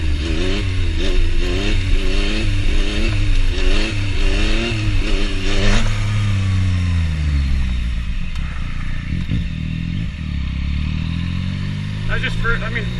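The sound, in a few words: Yamaha FZ-09 motorcycle revving, clutch popped for a wheelie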